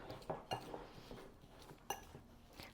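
A fork clinks and scrapes against a bowl while mashing cinnamon and salt into butter for cinnamon rolls, a few distinct close taps over a quiet background.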